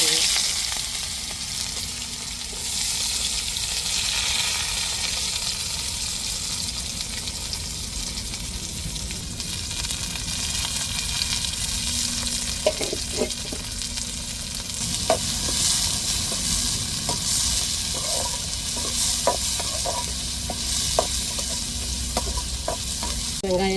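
Onions and chillies fry and sizzle in a pan, a steady hiss that runs almost the whole time, with scattered clicks and scrapes of stirring toward the end and no talking.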